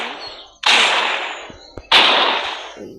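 Two loud, sharp blasts from a favourite weapon in the video game Gorebox, each a sudden crack trailing into a long decaying roar, spaced about a second apart.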